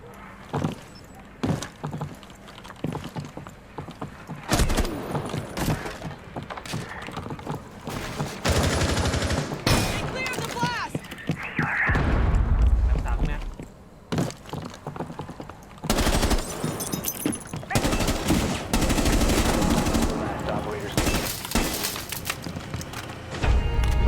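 Bursts of gunfire from the Rainbow Six Siege video game, loud and close, with clusters of rapid shots and short volleys broken by brief pauses across the whole stretch.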